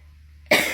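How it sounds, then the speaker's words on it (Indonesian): A single sharp human cough bursts in abruptly after a moment of near silence, loud and close, and trails off quickly. "mohon maaf ya saya batuk."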